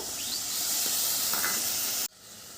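Water is poured into spices frying in a pan for a potato-gourd curry. It makes a loud close hiss and steam rush that lasts about two seconds and then cuts off abruptly.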